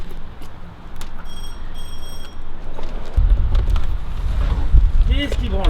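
A short bell-like ringing chime sounds for about a second, followed by gusty wind noise buffeting the microphone.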